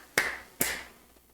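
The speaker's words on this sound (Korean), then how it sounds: "If I say clap 3 times" Hands clap three times at close range in a quiet room: two crisp, evenly spaced claps followed by a much fainter third.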